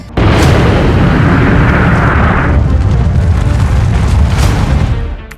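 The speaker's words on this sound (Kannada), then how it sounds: "ಹಿರೋಶಿಮಾದ ಮೇಲೆ ಅಮೆರಿಕ ಮಾಡಿದ ಅಟೋಮಿಕ್ ಬಾಂಬ್ ಅಟ್ಯಾಕ್" The atomic bomb explosion over Hiroshima erupts into a sustained, deep roaring boom that rumbles loudly for several seconds before fading slightly at the end.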